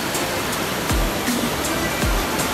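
Big ocean waves on the Australian coast, a steady broadband roar of surf with two heavier low thumps of breaking water, loud and continuous throughout.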